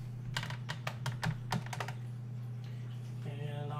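Fast bursts of keystrokes on a computer keyboard during a PC build, clattering in quick runs for about two seconds and then stopping, with a steady low hum underneath and a faint tone near the end.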